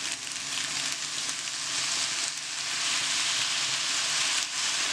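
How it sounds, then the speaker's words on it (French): Udon noodles with shrimp and garlic sautéing in a pan over low heat, a steady soft sizzle that continues throughout with faint stirring and no talk. "Alors on fait revenir à feu doux"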